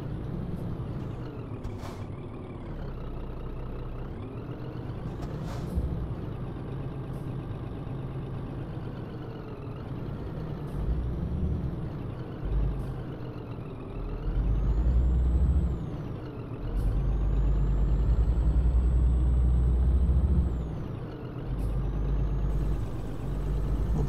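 A heavy Scania truck in the video game Scania Truck Driving Simulator brakes and slows under a steady, deep engine drone, with hissing air-brake releases and rising whines as the load eases down; no talk.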